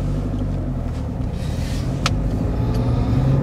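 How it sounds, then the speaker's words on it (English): A 2004 Honda CR-V on a test drive, its ABS reporting no signal from the left rear wheel speed sensor, gives a steady low road and engine rumble throughout with a brief faint click partway. "So let's go for a quick drive."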